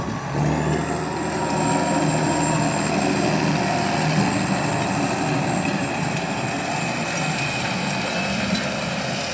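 A tractor pulling a 6-metre seed drill sows barley in a field. The engine drones steadily and loudly throughout, with a faint whine above it and no speech.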